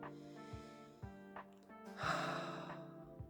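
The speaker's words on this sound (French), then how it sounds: "Vous allez prendre quelques instants pour venir faire de grandes respirations" Slow, deep breaths during a guided sophrology relaxation session, heard as soft, close inhales and exhales, with a few sharper intakes spaced about a second apart and one longer, fuller breath near the middle.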